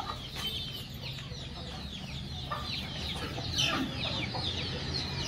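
Free-range desi chickens cluck repeatedly at moderate distance in an outdoor farmyard, a busy overlapping chorus of short calls over steady background noise, with no talking.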